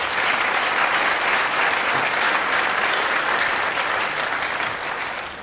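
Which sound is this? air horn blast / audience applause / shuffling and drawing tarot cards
audience applause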